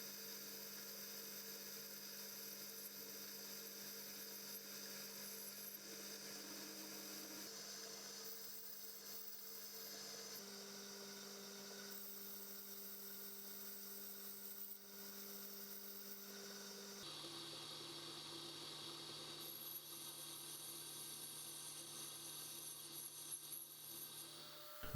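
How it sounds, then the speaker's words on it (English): A steady high-pitched whine of a drill on a Colchester Britannia lathe cutting aluminium stock runs continuously, its pitch shifting slightly as the load changes. "I'm drilling the hole to be a nice fit on the shaft"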